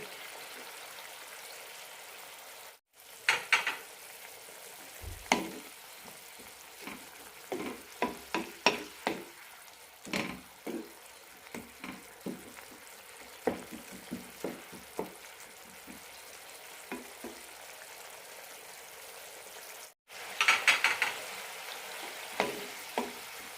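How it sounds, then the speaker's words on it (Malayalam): Shallot curry boils gently in a pan over a low flame, giving a quiet, irregular bubbling with soft pops and a few louder clicks and stirs. "ലോ ഫ്ലെയിമിലിട്ട് 5 മിനിറ്റ് നന്നായി തിളപ്പിച്ചെടുക്കണം."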